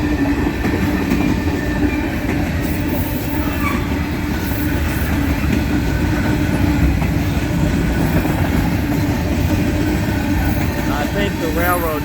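A slow-moving freight train rolls along railroad tracks near a flooded area in Carroll and Chariton County, Missouri, giving a steady close rumble with clickety-clack of wagons and a brief wheel squeal near the end, while someone talks faintly underneath.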